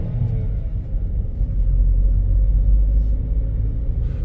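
A 2010 Volkswagen Polo engine idles with a steady, low rumbling drone, close and even with no misfires, continuing alone without talk.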